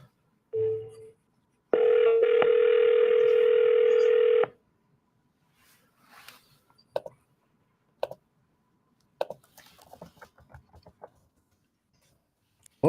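A steady telephone dial tone sounds alone for about three seconds on an outgoing cold sales call, preceded by a short beep and followed by faint clicks and scattered handling noises.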